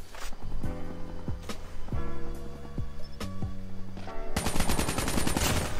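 Rapid gunfire from a weapon in Call of Duty Mobile, with sharp repeated shots and short bursts over ringing game effects, ending in a sustained dense volley.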